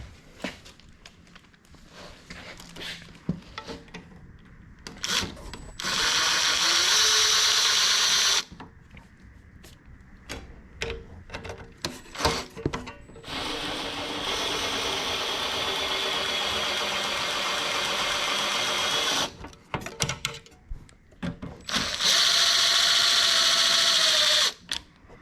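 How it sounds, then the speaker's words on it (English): A power driver with a T15 bit runs screws into 3D printed LED light brackets, giving several sustained whirring runs lasting a few seconds each, separated by handling clicks and pauses, close and fairly loud. "you can take a T15 bit and screw these in until it gets to the right point."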